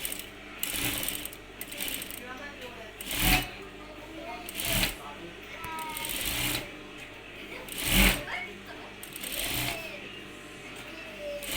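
Sewing machine stitching the overlocked hem of a flared skirt, turned under half a centimetre, running in steady whirring bursts with rhythmic mechanical clatter and brief louder thumps between runs, close and clear.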